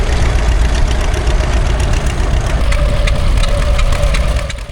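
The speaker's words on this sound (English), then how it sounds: "Here's a tractor we've not caught up with yet, the John Deere Model D." A John Deere Model D tractor idles at close range, its engine giving a steady, loud, rough chugging that runs unbroken throughout.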